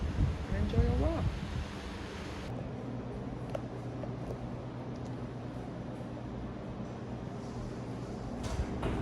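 Ocean waves wash onto a beach in Cancun as a steady, continuous surf roar with wind noise on the microphone and a brief bump of handling early on.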